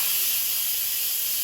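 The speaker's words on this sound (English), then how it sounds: "Now the Instant Pot is done cooking, so let's quick release the steam." An Instant Pot pressure cooker vents steam in a quick release after cooking turkey wings, a loud, steady, unbroken hiss held close and constant throughout.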